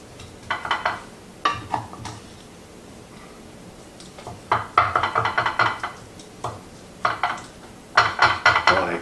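Beef enchilada mixture is spooned into a baking pan in clustered bursts of scraping and knocking against the pan, with quiet pauses between the groups of sounds.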